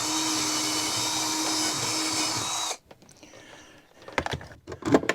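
A steady, loud electric drill whine runs continuously for a few seconds while fitting a swivel table, then cuts off, followed by quieter clicks and handling noises.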